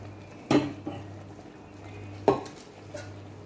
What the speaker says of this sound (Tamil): ஒரு அஞ்சு நிமிஷம் கிளறி விட்டுருவேன்